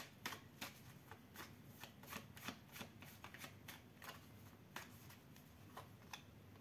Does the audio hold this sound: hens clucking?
no